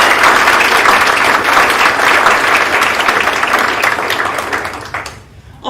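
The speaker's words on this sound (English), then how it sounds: "Let's give them a round of applause, everyone." Wedding guests applaud the couple, Sam and Kristen, with dense, steady clapping that fills the room for about five seconds before thinning and fading out at the end.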